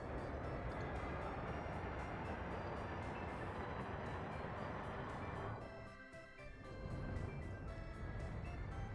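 A long freight train rumbles steadily through a Workers and Resources city-building game, a dense continuous roar with a brief dip midway before it resumes, and no voices.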